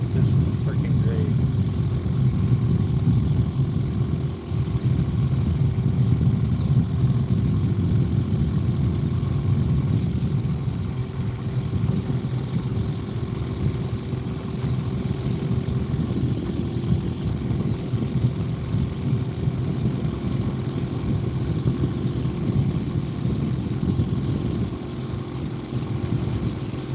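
Small fishing boat engine idling at low throttle on the water, a steady low rumbling drone that holds evenly throughout, close and continuous with no changes in pace.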